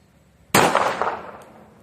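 A single sharp handgun shot fired left-handed at a target, a loud close crack followed by a short ringing decay, otherwise quiet with no speech.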